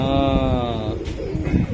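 Racing pigeons in a loft give a close, clear cooing call with a steady tone, then softer throaty murmurs in a short burst.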